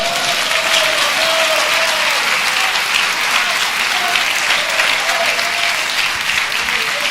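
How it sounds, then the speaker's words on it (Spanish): A church congregation claps steadily and densely for the Lord during a Spanish-language worship service, the applause continuous and loud throughout, with a voice or sustained tone faintly carrying underneath. "Denle un aplauso al Señor"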